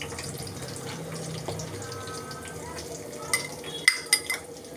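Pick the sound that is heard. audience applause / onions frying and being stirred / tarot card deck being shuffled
onions frying and being stirred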